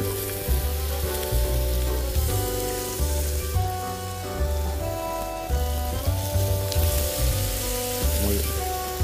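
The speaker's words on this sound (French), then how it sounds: "Donc, on a fait revenir les pommes." Granny Smith apples sautéing in a pan, a continuous close sizzle with occasional stirring shifts, steady throughout with no talk.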